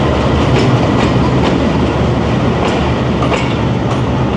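The Farid Express passenger train moves on through Nawabshah station after a two-minute stop, a loud, close, continuous rumble with rhythmic clickety-clack of wheels over rail joints throughout.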